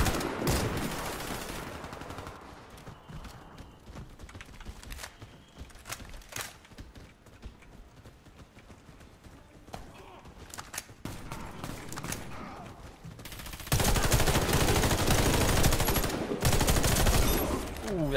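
Gunfire in the video game Warface, with scattered shots and bursts through the middle and a dense, loud stretch of sustained firing near the end, no talk over it.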